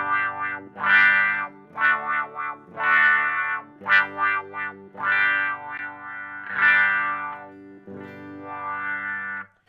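Electric guitar through a Dunlop 535Q wah pedal with the Q control at about three quarters, playing a series of distorted sustained chords and notes whose tone sweeps open and closed, several phrases with brief gaps and a somewhat thin low end.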